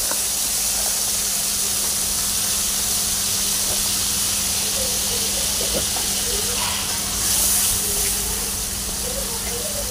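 A loud steady hiss and sizzle of tomato sauce thinned with water hitting a hot pan for chilli mushroom, continuous throughout with a brief swell near the end, a voice talking over it.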